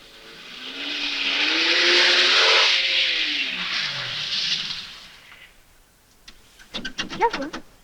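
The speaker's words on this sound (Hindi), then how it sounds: "आपकी गाड़ी ने जवाब दे दिया।" A car engine whines as it tries to start, rising and falling for several seconds. It then gives a few ragged, sputtering bursts and fails to catch.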